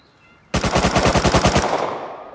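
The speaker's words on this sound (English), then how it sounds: "I also began to hear gunshots." Automatic gunfire in the Rust video game during a chaotic raid: one loud, close burst of about a dozen rapid rounds in an even rhythm over roughly a second, then a fading echoing tail, with no talking.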